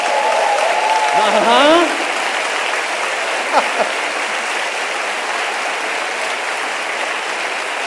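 A church congregation claps together in a steady, sustained wash of applause that fills the whole stretch, with a brief spoken voice near the start.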